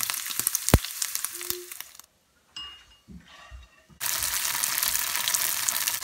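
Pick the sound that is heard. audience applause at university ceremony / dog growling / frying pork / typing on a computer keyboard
frying pork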